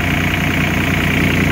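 Komatsu PC30-5 mini excavator with the engine cover open, its diesel engine idling in a steady, loud, even rumble close by with no talk.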